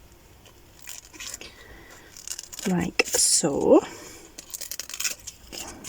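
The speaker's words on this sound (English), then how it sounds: "I'm going to use my messy scissors, okay? So you can actually just cut it off." Scissors snip excess tissue paper off decoupage craft tags: a few short, crisp cuts in the middle, with a person speaking close by before and after.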